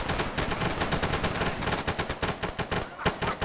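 Rapid automatic gunfire in a WW3-style military video game, with several weapons firing at once: dense, loud, continuous bursts of shots that fill the whole stretch without pause.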